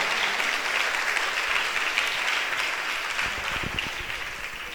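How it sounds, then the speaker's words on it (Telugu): Congregation at a church festival clapping loudly for God, continuous dense applause from a large crowd throughout, with a few closer claps near the end. "సంతోషంగా ఉంటే గట్టిగా దేవునికి చప్పట్లు కొట్టు"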